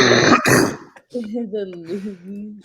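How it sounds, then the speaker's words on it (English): A single harsh cough or throat-clear bursts out at the start, followed by a voice talking. "I just saw you cough and you didn't spit it out"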